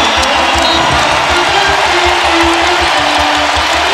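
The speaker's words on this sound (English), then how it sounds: "Watson Jr. gets the big round of applause." Basketball arena crowd at a Creighton versus Xavier college game applauding steadily for a player, a dense continuous wash of clapping and crowd noise throughout, with a faint voice underneath.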